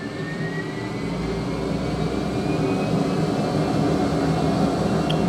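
Loud steady roar of a Harvey G800 dust collector at full power, a dense continuous rush of air and machine hum with a faint high whine.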